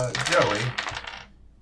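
Dice clatter onto a hard surface in a quick tumbling burst lasting about a second, close and fairly loud, then a brief rattle settles into quiet; no speech.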